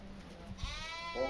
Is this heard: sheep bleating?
yes